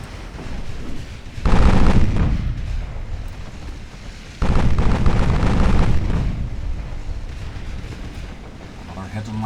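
Heavy naval gunfire in the warship game Ultimate Admiral Dreadnoughts: two loud, booming salvos with long rumbling decays, the first at about one and a half seconds and the second near four and a half, over a constant low roar.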